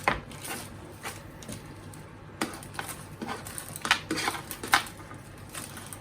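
Roasted pumpkin, potatoes and other vegetables are tipped from a tray into a pot, producing a series of scattered clatters, scrapes and soft thuds at close range.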